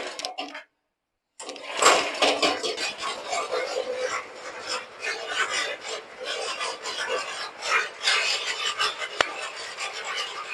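A petrol-powered chaff cutter runs steadily after a short silent pause, its small engine and cutting blades making a continuous close raspy, rubbing drone with brief sharper surges.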